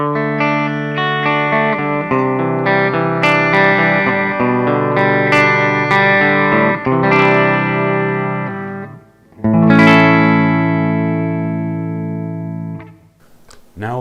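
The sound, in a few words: PV Wolfgang guitar bridge pickup through Splawn Street Rod clean channel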